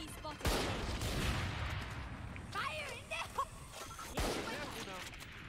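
Gunfire in Valorant, a heavy burst of rapid shots and booms at the start, then scattered single shots and impacts, with a player talking over the action.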